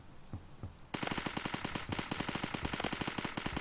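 Sustained automatic fire from an M4 rifle in the Roblox game Phantom Forces. A sudden rapid burst of evenly spaced loud shots runs to the end, preceded by quieter gameplay noise.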